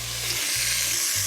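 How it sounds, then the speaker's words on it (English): Diced beef shin sizzling loudly in hot oil in a pan, a dense, close, continuous crackling hiss with a low hum underneath. "That's a lovely sizzle."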